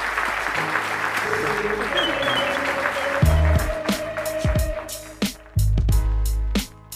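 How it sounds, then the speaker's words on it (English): Audience applause for panelists at a live discussion event on the origins of West Coast hip-hop, steady crowd clapping with music and voices mixed in beneath, then thinning out and breaking into bursts toward the end. "Just give them a round of applause."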